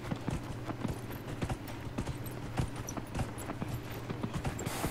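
Steady clip-clop of horse hooves in the video game Dragon Age Inquisition, a brisk continuous rhythm of hoofbeats with faint background ambience.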